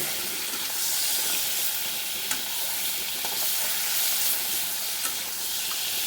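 Prawns frying in a pan with salt, a loud, continuous sizzle and hiss with occasional stirring clicks and spatters, close up and with no talking.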